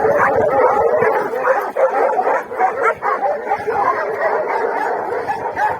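Several dogs bark, yip and growl in a loud, frantic tangle, close by and continuous, as if fighting.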